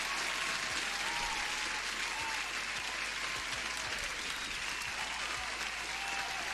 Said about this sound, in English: Sarvesh, you deserve an applause